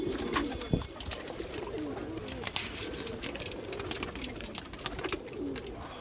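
Rampur pigeons coo in soft, low, repeated murmurs close by, mixed with scattered clicks and wing or cage taps.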